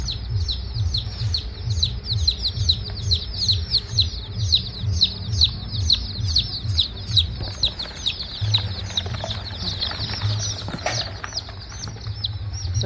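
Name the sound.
turkey chicks chirping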